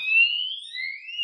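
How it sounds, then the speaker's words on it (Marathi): A police siren wails in a Marathi village comedy scene, a thin, steady electronic tone sweeping slowly upward, heard alone and fairly clear. "आला ना आवाज? सायरन वाजायला लागला"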